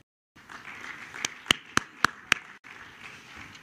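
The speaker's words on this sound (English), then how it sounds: "Y'all got to help me with the clapping." A few sparse, sharp hand claps from an audience at a 2021 school graduation ceremony, about five distinct claps in a row over a quiet room hum.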